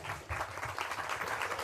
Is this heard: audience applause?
yes